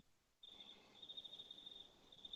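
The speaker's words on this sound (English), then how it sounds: "Crickets." Crickets chirp as a comic sound effect, a steady high-pitched trill starting suddenly after a moment of near silence and continuing faintly throughout.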